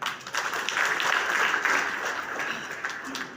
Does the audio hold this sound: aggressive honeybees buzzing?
no